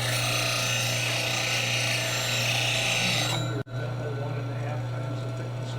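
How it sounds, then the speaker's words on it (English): A woodturning skew chisel is ground freehand on a grinding wheel with a tool rest, a loud continuous rasping whine over a steady motor hum that cuts out briefly, then the wheel keeps running more quietly. "Grinding skews freehand's very easy."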